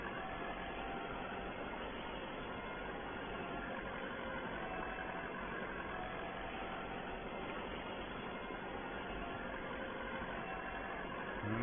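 A tractor engine drones steadily and evenly throughout while drilling beet and beans on a farm field, a dull continuous running sound with no talk.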